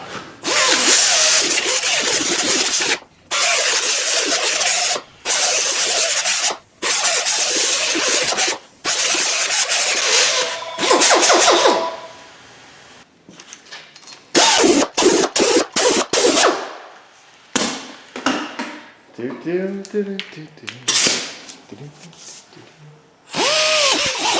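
A drill spins an abrasive cookie wheel against the hub face of a Toyota Camry during a front brake job. Repeated loud, close whining bursts with short pauses give way to scattered clanks and handling noises, and a voice is briefly heard.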